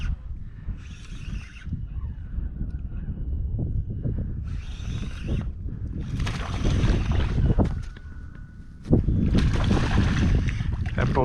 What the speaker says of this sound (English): That boat just tore through here,